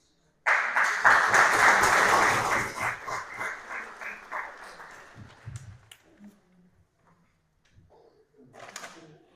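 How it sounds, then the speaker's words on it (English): An audience at a city commission meeting applauds, a loud burst of clapping that thins out and fades over several seconds, followed by scattered murmurs and small noises. "So round of applause for everybody again, please."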